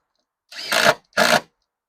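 A power driver backs out and then resets screws in composite decking, two short close whirring bursts separated by a brief pause, with no talk.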